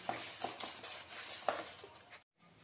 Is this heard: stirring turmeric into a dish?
yes